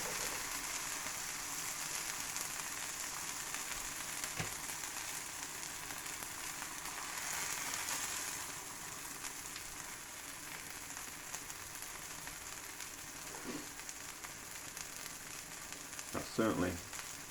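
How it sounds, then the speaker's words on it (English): Bacon frying in a pan for a cheese burrito, a steady close sizzle and crackle throughout with a few clinks and stirring noises near the end and a brief spoken remark. "Now some bacon in."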